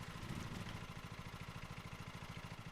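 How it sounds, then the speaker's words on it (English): Lawn mower engine in Lawn Mowing Simulator, starting up into a steady rhythmic low chugging idle that pulses evenly, loud and close. "Hold X to start engine."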